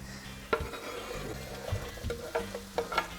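Pieces of bell pepper sizzle and fry in a pan, with a soft steady hiss broken by several stirring scrapes and light clatter.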